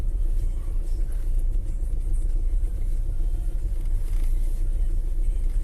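A car drives along a dirt road through open fields in the countryside, its continuous low rumble and engine drone heard close and steady throughout.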